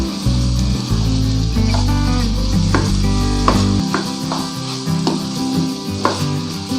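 A spoon stirs aloo anday, a potato and egg curry, in a pan with soft scrapes and clinks over a low sizzle and a steady background hum, close by and without talk.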